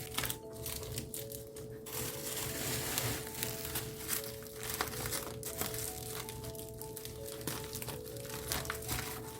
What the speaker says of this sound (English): So I'm going to wrap this up in bubble wrap so that I can tape it together